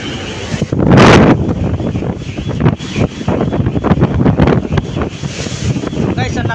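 A boat pounds through very large waves, with heavy wind roaring across the microphone and loud bursts of spray and surf.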